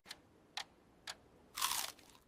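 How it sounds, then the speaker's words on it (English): Four crisp crunchy bites of food, three short sharp snaps spaced about half a second apart followed by a longer, louder crunching burst, close and alone against a quiet background. "I take a bite."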